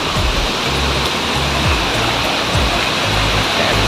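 Strong waterfall at Curug Lembah Pelangi in Bogor, West Java, roaring as a dense, steady broadband rush of falling water, loud and close, with faint low thumps beneath and no speech.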